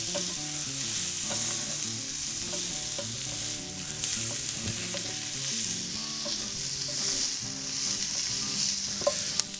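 Minced garlic being stirred into beer brats in a hot pan, with a loud continuous sizzle and frying crackle throughout and occasional scrapes and taps of the utensil against the pan, close up with no voices.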